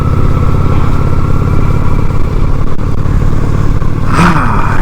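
A Honda Shadow 750 motorcycle engine rumbles loud and close during a ride, a steady low throb with wind roar and a brief rise in pitch near the end.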